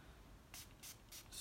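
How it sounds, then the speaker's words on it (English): A small alcohol spray bottle spritzes onto eyeglasses in three or four quick, faint hissing bursts at close range, separated by brief quiet gaps. "I have to get out my little alcohol spray, pop off the cap,"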